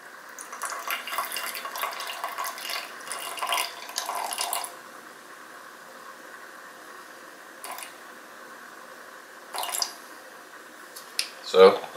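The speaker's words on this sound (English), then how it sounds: "And I'm going to add 30 grams of water." Water is poured into a sourdough starter made from flour, with soft trickling and splashing in a few short bursts, the longest early on, then quieter gaps and brief drips near the end.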